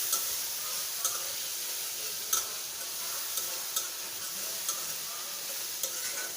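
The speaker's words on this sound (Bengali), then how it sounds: "দেখো মাছটা কষানো হয়ে গেছে" Dried taki fish stir-fried in a pan gives a soft, steady sizzle, broken by sharp spatula scrapes that repeat roughly every second, heard close up with no talking.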